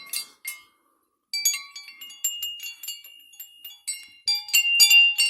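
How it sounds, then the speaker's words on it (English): Small bells hanging above a Buddhist altar tinkle and chime in bright, irregular clusters, ringing close and clear with brief silences between strikes. "I have bells above."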